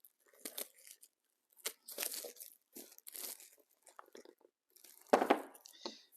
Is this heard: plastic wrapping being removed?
yes